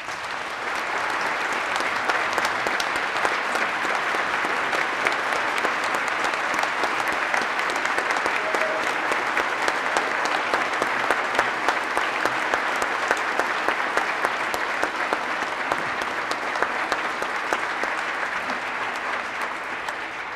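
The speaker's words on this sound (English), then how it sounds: "let's give him a round of applause" Sustained applause from legislators filling the Minnesota Legislature chamber on opening day, honoring the departing Secretary Steve Simon, dense and steady for about twenty seconds with no talk.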